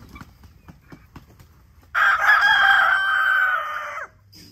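A young chicken lets out one loud, sustained crow close by, lasting about two seconds, with faint scratching and soft background noise before it.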